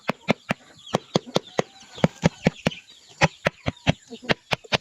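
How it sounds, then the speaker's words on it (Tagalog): Knuckles tap a ripe jackfruit in a quick, steady series of about twenty dull, hollow knocks, close and distinct, with chickens faintly clucking behind. "Pagka hinog po ganito yung tunog lang ng langka."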